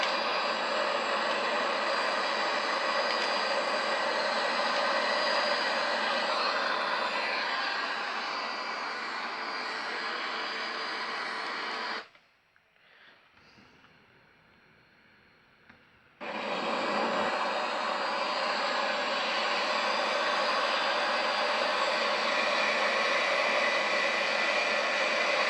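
A simulated El Al Boeing 737-800 cruising at about 23,000 to 25,000 feet in Microsoft Flight Simulator X produces a steady, loud roar of engine and cabin noise that cuts out briefly midway, then resumes unchanged.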